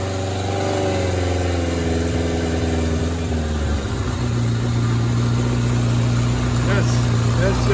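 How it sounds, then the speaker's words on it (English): A 1993 Suzuki GSX600F motorcycle engine idles steadily after a carburetor repair, a loud continuous close hum whose pitch settles lower partway through and then holds even. "The idle is stable."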